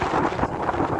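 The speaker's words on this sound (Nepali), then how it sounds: "हावा यति धेरै लाग्छ" Strong mountain wind buffets the microphone in a brief, loud, rumbling gust heard alone, high above a Nepali village.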